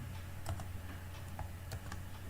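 Typing on a computer keyboard while entering text into an HTML file, with scattered soft key clicks in irregular bursts, faint and close over a steady low hum, with no talking.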